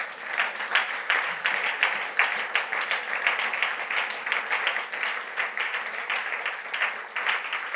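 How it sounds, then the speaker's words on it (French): A church congregation claps and cheers steadily for a few seconds, a continuous wash of applause at even loudness with no speech rising above it. "Est-ce qu'on peut acclamer le roi des rois?"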